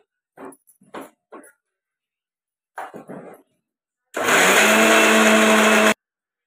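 A mixer grinder coarsely blends red vada pav chutney in one loud, steady whirring burst of about two seconds, after a few brief knocks and clatters in an otherwise quiet room.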